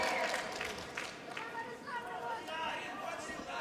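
Spectators at a fight event react with murmuring chatter and raised voices, a moderate crowd noise under a commentator talking.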